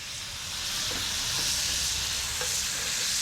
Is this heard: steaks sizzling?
yes